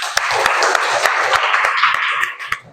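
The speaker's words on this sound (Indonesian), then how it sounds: "Bagus, tepuk tangan." Classroom of students clapping together in a dense burst that gradually thins out and stops, with a few sharp individual claps near the end.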